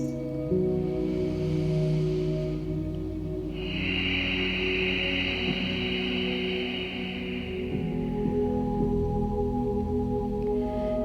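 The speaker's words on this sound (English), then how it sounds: "the strong, victorious, audible Ujjayi breath" A slow, breathy Ujjayi hiss of air drawn through the nose and a narrowed throat, one long steady breath over quiet sustained background tones.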